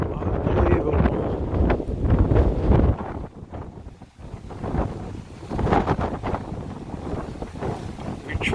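Strong gusting wind during an overnight windstorm in El Centro, California, buffeting loudly against a van with continuous roaring surges and brief lulls, close and harsh on the microphone.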